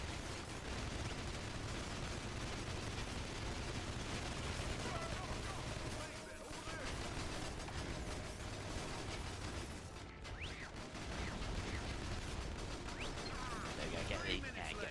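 Auto gun turrets in Battalion Wars 2 keep up dense, continuous gunfire with rattling mechanical bursts through the whole stretch, loud and close, while someone talks over the battle.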